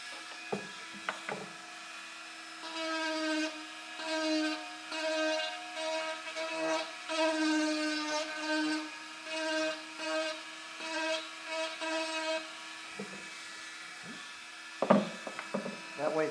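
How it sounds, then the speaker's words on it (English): A teardrop cutter on a rotary tool shapes the eye socket of a carved wooden eagle head cane, whining in repeated rising and falling bursts of cutting, with a few knocks before and after. "Now I'm going to use a teardrop cutter to kind of shape the front of that socket slightly."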